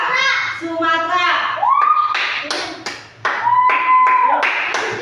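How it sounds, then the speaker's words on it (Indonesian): In a classroom, children clap their hands in short bursts of applause, mixed with lively children's voices and a teacher's speech. "Kasih tepuk tangan."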